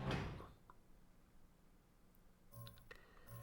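Heavy east gate opening in the game Dysmantle, a sharp clunk at the start followed by faint mechanical sliding and a couple of metallic knocks and whirs near the end, quiet overall.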